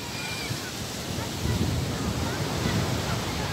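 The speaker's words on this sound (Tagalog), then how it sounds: "Lakas ng alon" Strong surf rolls onto a beach at Sitio Liwliwa, San Felipe, Zambales, a steady broadband wash of breaking waves that swells louder midway, with a voice talking faintly underneath.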